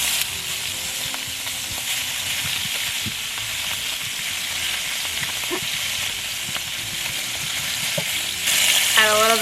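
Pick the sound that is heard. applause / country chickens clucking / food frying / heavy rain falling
food frying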